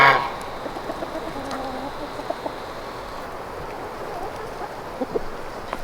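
Homestead chickens cluck softly and intermittently in the background, a steady low outdoor hum underneath with a few sharper clucks and calls scattered throughout.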